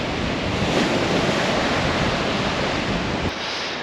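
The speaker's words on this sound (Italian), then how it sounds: "Guarda qui il mare quanto sta mangiando la spiaggia" Loud, continuous roar of surf eroding the beach, washing onto the shore, with strong wind buffeting the microphone and no voices.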